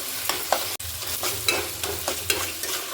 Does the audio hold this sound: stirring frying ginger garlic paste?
yes